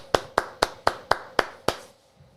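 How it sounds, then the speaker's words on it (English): A single person claps seven times in a slow, even rhythm, each clap sharp and close, with a short quiet tail after the last one. "And I have to applaud."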